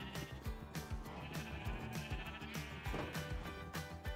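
Sheep in Minecraft bleat repeatedly, with several overlapping bleats over a constant background bed of music or ambience at moderate loudness.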